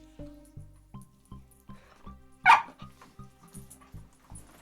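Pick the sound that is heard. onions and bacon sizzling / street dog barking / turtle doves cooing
street dog barking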